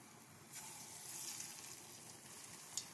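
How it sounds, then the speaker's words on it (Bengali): Masoor dal bora, small lentil fritters, frying slowly in oil over low heat: a steady soft sizzle and hiss runs throughout with no talk, swelling slightly midway with a faint crackle near the end. "এরকমভাবে সব কটা বড়া আমি ধীরে ধীরে ভেজে নেব"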